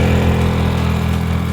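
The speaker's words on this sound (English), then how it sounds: "Got the generator out" A portable generator runs steadily on a construction site where concrete is being broken, its mid-pitched engine drone holding a constant, fairly loud level with a low, even hum and no talk over it.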